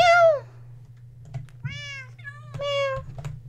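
Cats meow repeatedly in the cute video game Kawaii Run, several clear rising-falling calls spaced across a few seconds over a steady low hum, with faint clicks between them.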